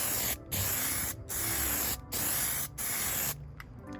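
Close, loud bursts of aerosol spray paint misting onto a car's side marker lights for a second coat, four sustained passes separated by short pauses, ending with a few quick short spurts.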